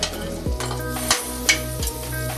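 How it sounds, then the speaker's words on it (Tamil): Moong dal stirred in a pan while frying for Ramadan nonbu kanji, with a steady sizzle under repeated scraping strokes of a spoon, close and moderately loud with no talking. "லைட்டாக ஒரு மிக்ஸ் கொடுத்துக்கோங்க"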